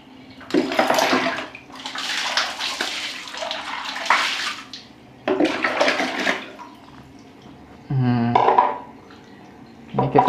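Chicken liver and gizzards are washed under running water, with close splashing bursts that start and stop several times between short pauses and a few clinks in a sink.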